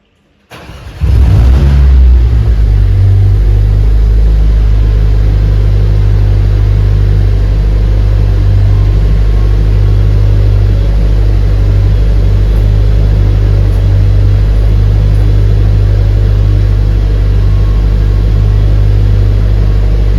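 A 2020 Mercedes-AMG A45S with a full titanium cat-back exhaust and valves blocked open starts up, bursting to a loud rev before settling into a steady, deep, booming idle heard up close with no talk.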